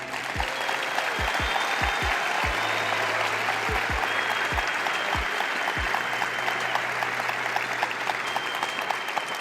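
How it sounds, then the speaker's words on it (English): Sustained applause from a seated audience, a dense steady patter of many hands clapping throughout, with a few low thumps scattered through it. "I want everybody to clap it up for these people to encourage them"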